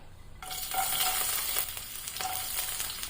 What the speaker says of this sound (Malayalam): അപ്പോൾ നമുക്ക് ആദ്യം വെളുത്തുള്ളി ചേർത്ത് കൊടുക്കാം